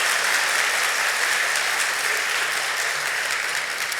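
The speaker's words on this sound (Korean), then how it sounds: "두 가정을 위해서 같이 박수로 권면해 주시면 감사하겠습니다." A church congregation at a Sunday worship service applauds steadily, a dense and loud wash of many hands clapping that holds evenly for the full stretch with no voices over it.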